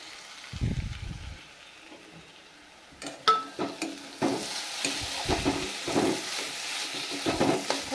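A kakrol (spiny gourd) filling with onion is fried and stirred in a pan. A quiet, steady sizzle runs under intermittent scraping and clattering strokes of a spoon against the pan.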